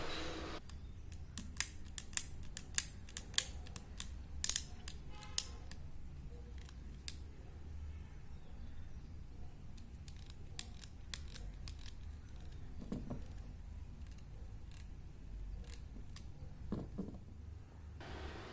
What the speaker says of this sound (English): This is what happens, the lever is stuck midway and won't move further.